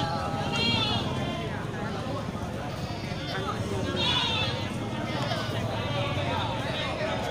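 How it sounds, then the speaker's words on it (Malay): Male and female goats and sheep bleat repeatedly at a crowded livestock market, several calls rising over constant crowd chatter and shuffling, with people talking throughout. "Juga banyak terlihat ini kambing-kambing jantan dan kambing betina."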